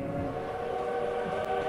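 Game train in the co-op puzzle game Tick Tock: A Tale for Two, a steady tonal whistle held over continuous rail rumble at moderate level, heard alone without talk.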